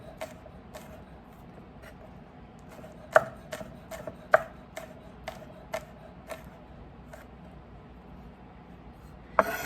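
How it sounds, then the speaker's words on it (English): A knife rough-chops strong-smelling ingredients on a cutting board, sounding as a series of crisp, irregular close knocks over a quiet background hum. "I'm just going to give it a little rough chop there."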